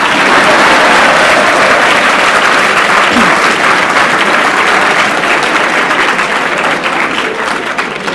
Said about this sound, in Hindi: ताली बजा।